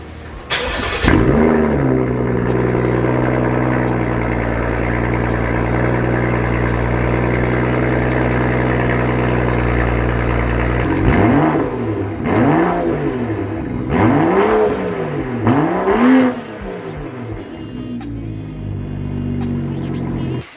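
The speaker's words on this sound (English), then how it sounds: "I'm gonna go ahead and start this car just so you guys can hear it." A straight-piped turbo car engine cranks and fires up, settles into a loud rumbling idle, then revs sharply several times in quick bursts before dropping back to idle.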